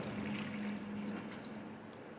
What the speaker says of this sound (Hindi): अब इसमें पानी डालता हूँ मैं।